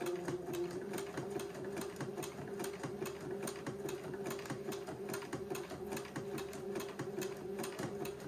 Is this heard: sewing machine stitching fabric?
yes